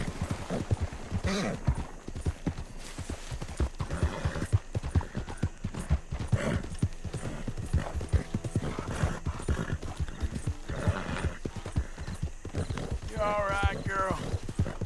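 Hooves clip-clop steadily at close range as a horse pulls a carriage in Red Dead Redemption 2, with a short whinny near the end and someone talking over much of it.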